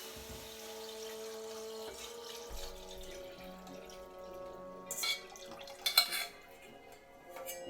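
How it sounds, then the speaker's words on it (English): Broth poured into a pot on a kitchen stove for a beef stew, a soft, steady liquid trickle with faint ringing pot tones and a couple of brief clinks of cookware, close and quiet. "And then you can add your 5 cups of broth."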